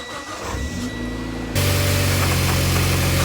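Mitsubishi Evo X engine after an oil change, cranking briefly then catching and settling into a loud, steady idle, close and alone.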